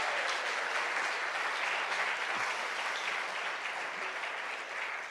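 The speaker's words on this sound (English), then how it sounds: "Give them a round of applause." Steady, dense audience applause at a spring fundraiser music evening, sustained evenly for the full length with no pauses, heard from within a large crowd.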